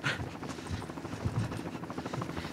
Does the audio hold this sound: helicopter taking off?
yes